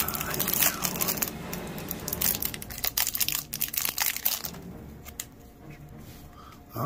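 Small plastic bag holding tiny game cards for a Tiny Epic board game, crinkled close up. Dense crackling handling noise comes first, then thins into scattered crinkles and rustles.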